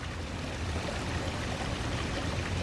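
A street stream of water flows under a bridge where two channels meet in a Y, making a steady close rushing and trickling sound with no voices.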